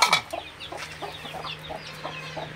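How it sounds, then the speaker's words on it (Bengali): A silkie hen clucks close by in a series of short, evenly spaced soft calls over a low steady hum. "এটা হচ্ছে সিল্কের মুরগি"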